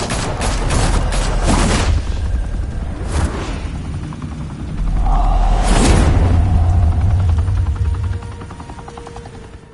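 Gunfire bursts in the Batman Telltale video game set in Gotham, loud and sustained over rumbling game sound, with heavy booming hits and a whirring engine-like drone through the middle.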